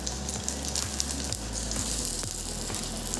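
Food frying in a pan, likely green banana (titakola) fritters, with a steady close sizzle and occasional soft pops and stirring scrapes throughout.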